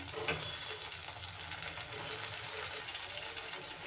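Tomatoes fry in oil in a pan, a soft steady sizzle and faint crackle continuing evenly throughout at low volume, with no talking.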